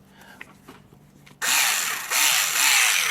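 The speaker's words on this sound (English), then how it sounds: "that is a cordless 3/8 hand ratchet" Cordless 3/8 hand ratchet whirs into action after a quiet moment of faint handling sounds, a sudden close, loud motorized buzz that runs steadily for under two seconds.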